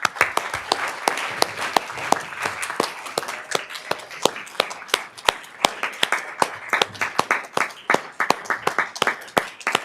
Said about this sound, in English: we're going to give you another round of applause as you come up